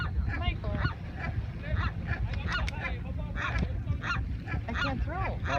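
Seagulls call repeatedly in short, honking bursts while being fed at Catalina, loud and close over a steady rumble of wind or surf, with voices audible beneath them.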